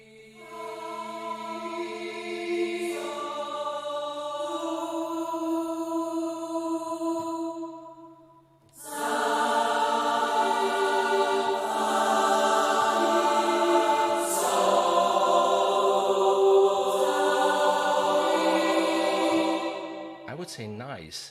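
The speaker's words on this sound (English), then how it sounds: "So there is this Alto Choir," Alto Choir sample library from Bela D Media, sustained sung vowel chords from a female choir that swell, fade briefly around the middle, then return fuller and brighter, played alone.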